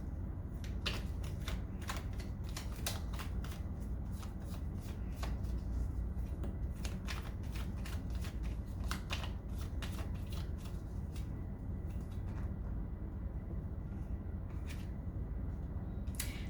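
Tarot cards are shuffled again and again in a quick run of crisp riffling flicks and snaps that continue steadily all the way through, close to the microphone, quiet, with no one talking.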